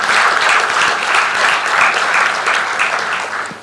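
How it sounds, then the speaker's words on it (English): Steady crowd applause at a forum closing ceremony fills the whole stretch, loud and dense with many hands clapping at once, no voices standing out. "you should give another round of applause to His Excellency"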